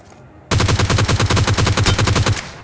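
A sharp, rapid burst of automatic gunfire from the mobile battle-royale game BGMI, played on the Vikendi map. About two seconds of loud, evenly spaced shots ring out, then cut off abruptly.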